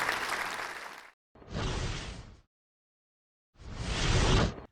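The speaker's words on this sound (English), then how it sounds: "Let's give the dragon a big round of applause." Audience applause for a dragon's magic trick, three bursts of clapping separated by silent gaps, each a dense wash of many hands.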